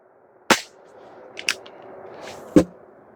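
A Hatsan Jet 2 PCP air pistol fires at cans, giving three sharp, close cracks with metallic impacts, spaced about a second apart over near silence.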